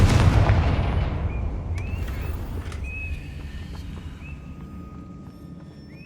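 A Confringo fire spell from the video game Hogwarts Legacy detonates in a loud booming blast that rolls off into a long fading rumble, with faint bird chirps in the quiet after.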